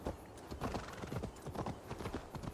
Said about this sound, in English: My horse didn't run off.